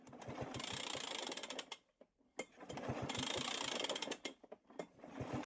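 Small leaf blower engine with a stuck engine being cranked by its pull-starter rope, heard as two bursts of rapid ratcheting mechanical clatter separated by a brief pause, close and fairly loud with no talking.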